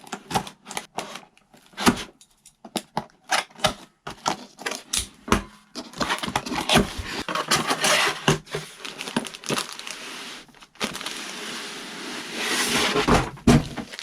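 A zippered carrying case for a DEERC DE22 drone is unzipped with a run of quick ratcheting clicks and rasps, sparse and sharp at first, then a denser, steadier zipping pull toward the end.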